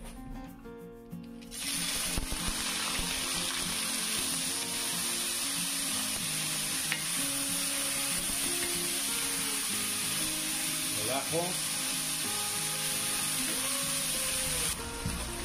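Onion hitting hot oil in a wok, bursting into a loud, continuous hissing sizzle after a quiet start, staying steady and close for the rest of the stretch with faint utensil taps and no voices.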